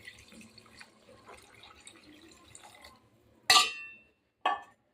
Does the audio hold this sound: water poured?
yes